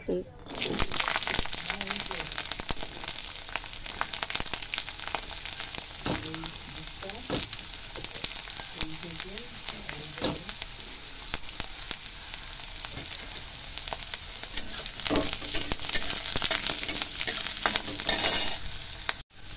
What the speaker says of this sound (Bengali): এবার রসুনগুলোকে হালকা ভেজে নেব।